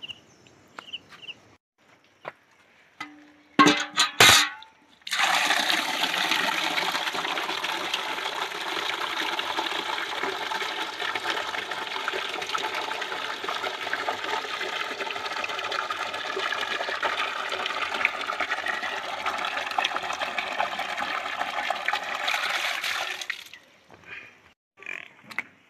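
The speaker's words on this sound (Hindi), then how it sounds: "अब गाय भैंसों को पानी देता हूँ" Water poured out for cows and buffaloes at a village home in Pithoragarh, Uttarakhand, a steady rushing pour lasting nearly twenty seconds, preceded by a few brief knocks and clatters.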